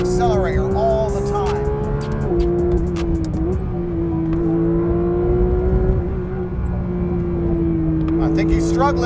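A 2025 Porsche GT3 RS engine pulls hard under full throttle, a loud sustained drone that shifts pitch as the car changes gear, with excited talking over it throughout.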